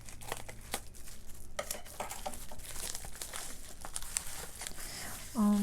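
Plastic packaging around a set of colored pencils is cut open and handled, giving soft crinkling and tearing rustles with a few sharper clicks, close and fairly quiet.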